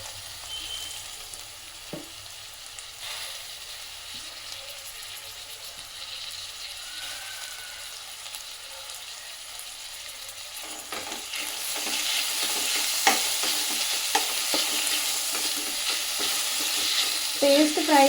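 Spice paste fries in oil for a fish curry, starting as a faint low hiss and swelling after a stir into a loud, dense sizzle with scattered crackles and spatters near the end.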